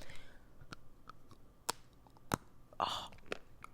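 Close, quiet mouth sounds of someone chewing a crunchy Ghirardelli dark chocolate sea salt almond candy, with scattered sharp crunches and soft murmured voice between bites.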